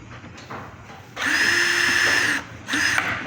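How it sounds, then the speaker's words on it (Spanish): A powered screwdriver loosening a hose clamp on a Daewoo washing machine gives two whirring bursts, a longer high-pitched spin followed by a shorter one, close and loud over a quiet room. "Eso con un destornillador."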